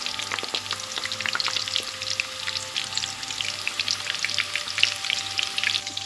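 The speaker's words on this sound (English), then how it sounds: "put the stick in there. And then just put it in the oil" Chicken lollipop balls on sticks frying in hot oil, a dense, steady crackling sizzle with rapid popping bubbles, close and continuous throughout, with no one talking.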